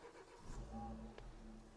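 A Renault Laguna with a 2-litre diesel engine cranks briefly and catches, settling into a low, steady idle close by, with quiet talk alongside.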